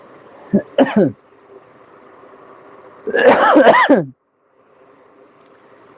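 A man with a cold coughs or clears his throat in two short rough bursts, the second longer and more strained, close by in an otherwise quiet shop.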